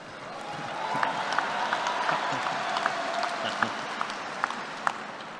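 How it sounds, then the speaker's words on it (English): Audience applause at a Kansas State University commencement speech, a steady wash of many hands clapping through the whole stretch, with a few sharper individual claps and a faint low murmur under it. "Not an applause line I thought I'd get"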